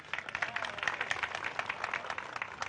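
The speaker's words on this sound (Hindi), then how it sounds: "अब ताली बजनी चाहिए" An audience breaks into steady, dense applause, many hands clapping together at an even level throughout with no voices over it.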